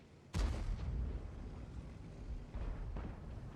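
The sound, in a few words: enemy tank cannon shot in World of Tanks video game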